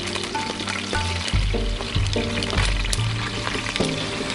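Onion paste goes into hot mustard oil mixed with white oil, bringing a loud, dense sizzle and bubbling fry. Tonal hum and music-like sustained notes run underneath, and no one speaks.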